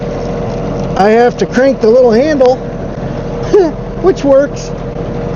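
A John Deere tractor with a snowblower attachment runs at a steady engine drone beneath a voice speaking over it in short bursts.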